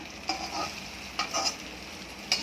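Stuffed bell peppers cook in a pan over a medium-low flame, giving a gentle steady sizzle broken by a few brief scraping turns of a spatula, heard up close.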